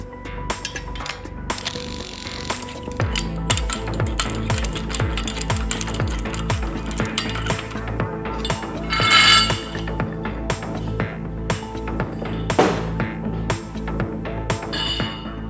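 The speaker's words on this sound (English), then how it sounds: "we can begin to loosen the bolts" Bolts on a REMBE KUB rupture disc holder flange loosened with a ratchet tool, steady close metallic clicking and ratcheting with occasional clinks and brief louder scraping bursts throughout.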